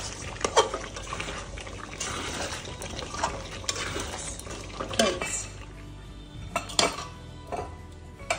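Meat with Sunlight ground spices is stirred in a pot, with a spoon scraping and knocking against the metal in irregular bursts over a low, wet sizzle; a voice is faintly audible in places.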